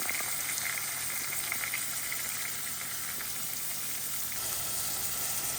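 Bottle gourd pieces fry in a pan with onions, making a steady, even sizzle that stays constant and fairly loud throughout, with no talking.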